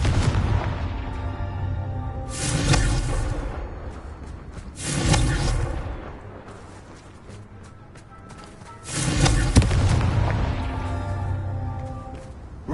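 In the video game Hogwarts Legacy, the fiery Confringo blasting spell goes off three times, each a loud booming burst with a rushing whoosh and a short fiery tail, separated by brief quieter gaps.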